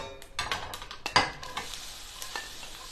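Very finely chopped onions tipped into a pan of hot oil with popping mustard seeds, giving a few sharp scrapes and knocks, then a bright crackling sizzle that settles into a quieter fry; no speech.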